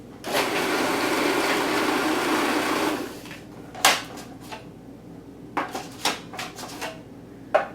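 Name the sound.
food processor pulsing apricot tart pastry dough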